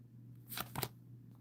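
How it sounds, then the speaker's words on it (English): A deck of tarot cards being shuffled and cut during a live tarot reading, heard as two short riffling bursts close by over a steady low hum, with no talking. "I just shuffled the deck and cut it and everything"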